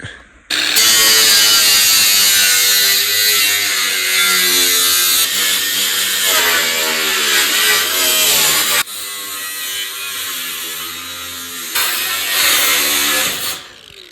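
A loud power tool whines steadily as it cuts through a metal roofing sheet, with a harsh buzzing tone, a brief pause partway through, then more cutting.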